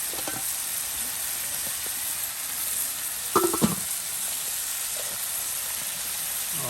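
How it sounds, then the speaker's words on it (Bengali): Tomatoes cooking down in a pan with ground spices, salt and chili powder, a steady sizzle with a brief burst of stirring clatter midway, no talking. "সকল প্রকারের গুঁড়ো মশলা দিয়ে দেওয়া হচ্ছে, আর কিছু পরিমাণ লবণ দিয়ে কিন্তু টমেটোগুলো একদম সিদ্ধ করে নেওয়া হচ্ছে।"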